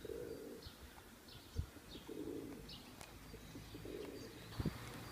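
Pigeons coo in soft repeated low phrases from close by on an early-morning city street in the centre of Lviv, with other small birds chirping faintly around them and quiet ambient hum.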